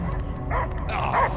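A dog in the Guardians of the Galaxy video game gives a few short barks and yips over a low rumbling background, close and fairly loud.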